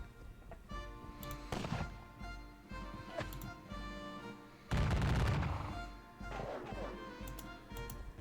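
Polish field artillery in a Battle of Borodino wargame fires a series of booming shots, the loudest blast near the middle, set over a busy backdrop of crackling gunfire and battle noise.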